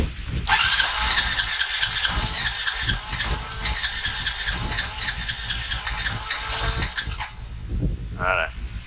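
A 15-year-old Honda ATV engine, lacking a choke cable, cranks and catches into a loud, steady running rumble with a high whine for about seven seconds, ending with a brief rising squeal.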